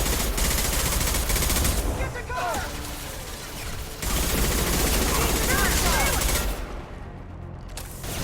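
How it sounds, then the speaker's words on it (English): Rapid automatic gunfire from Mass Effect 2 as mercenaries are shot, loud bursts running almost continuously with brief lulls and a short quieter gap near the end. "Shooting mercs in the face"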